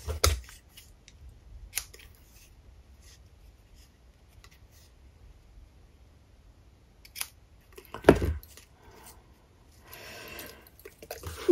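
Scissors cutting while a bow is made for a jewelry box, heard as a few sharp, isolated snips spread across an otherwise quiet stretch, close by.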